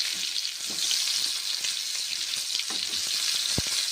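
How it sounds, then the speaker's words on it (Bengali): Mushrooms fry in a pan with whole cumin seeds over low gas heat, giving a steady bright sizzle with a few soft stirring knocks and one sharp tap near the end. "তারপর মাশরুমগুলো ভেজে নিচ্ছি"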